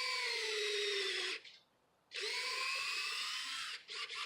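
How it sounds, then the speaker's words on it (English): Cordless drill boring a tap hole into a tree for sap, a loud steady whine in two long runs with a brief pause between, then short stuttering bursts at the end. "You want to make sure you got a good charged drill."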